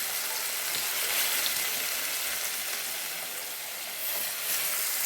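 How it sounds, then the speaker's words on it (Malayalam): Fish fries in hot oil in a pan, giving a steady, bright, close sizzle that crackles continuously without pause and with no talk over it. "രണ്ട് ട്രിപ്പായിട്ട് പൊരിക്കേണ്ടി വരും, അതുകൊണ്ട് നമുക്ക് കുറച്ചിട്ട് കണ്ട് പൊരിച്ചെടുക്കാം."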